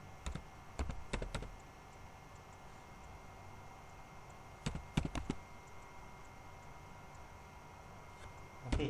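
Bursts of quick clicking keystrokes on a computer keyboard while typing CSS code, in short clusters separated by pauses over a steady hum, fairly close and moderately loud.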